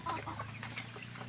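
Several backyard chickens cluck in a steady, close series over a low constant hum, with no talk.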